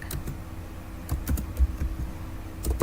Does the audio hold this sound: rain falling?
no